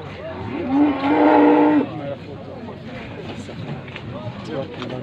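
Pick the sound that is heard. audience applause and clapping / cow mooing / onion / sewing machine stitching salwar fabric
cow mooing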